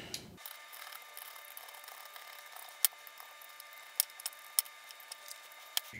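Small screws being backed out of the plastic shell of an aux-to-cassette adapter, heard as faint close ticks and clicks scattered over a quiet, steady background hiss with no talking.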